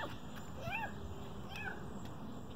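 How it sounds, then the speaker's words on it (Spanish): A kitten meows several times in a garden, with short rising and falling cries that sound fairly faint and high-pitched over a quiet background. "el gatito quiere su mamá"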